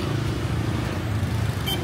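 Street traffic in Da Lat, a mountain city in Vietnam: a steady, continuous low rumble of passing cars and motorbikes, moderately close, with no voices over it.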